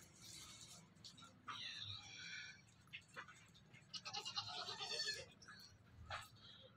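Goats calling on a goat farm with breeder bucks and kids, several bleats rising over a murmur of people talking nearby, moderately loud and close.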